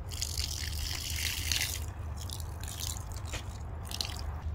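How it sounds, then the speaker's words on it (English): Water being poured from a cup onto sugar for bee feed bricks, a steady splashing, trickling pour close by that runs throughout with no talking. "Then I'm going to start out pouring about a cup of water in here."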